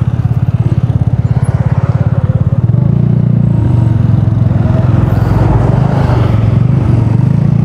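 A Yamaha Mio i125 scooter rides along a road on a long test ride, its engine note thrumming steadily and loud close to the rider, rising slightly after a few seconds amid wind and road noise.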